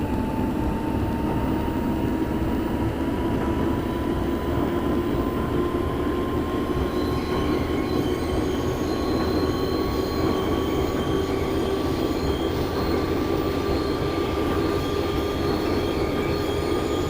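An R62A subway train runs in the OpenBVE train simulator with a steady rumble of motors and wheels. Rising tonal whines and a thin squeal of wheels continue for the whole stretch, with no voices.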